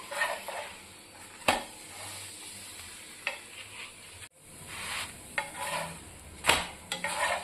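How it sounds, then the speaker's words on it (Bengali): Pea-stuffed paratha frying in a pan, a soft continuous sizzle punctuated by several sharp scraping and clinking spatula strokes as it is turned, close and fairly quiet. "এপিট ওপিট করে ভেজে নেব।"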